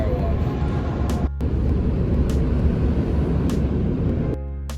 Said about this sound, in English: Loud car wash.